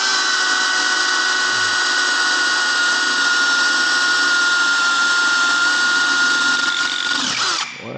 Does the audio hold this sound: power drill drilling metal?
yes